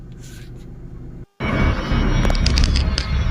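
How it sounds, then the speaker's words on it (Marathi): A Tata car's engine rumbles steadily while driving on a highway, a low continuous drone that briefly cuts out before returning louder with road and wind noise. "गाडी गरम झाली आहे आता आपण गाडी सावलीमध्ये घेऊया"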